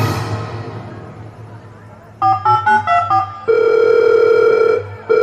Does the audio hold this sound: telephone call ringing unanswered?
yes